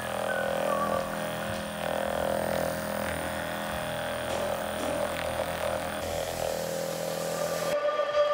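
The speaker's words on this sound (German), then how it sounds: "So eine Massagepistole oder wie auch immer" A handheld percussive massage gun runs with a steady, buzzing motor drone that holds an even pitch for several seconds before cutting off abruptly near the end.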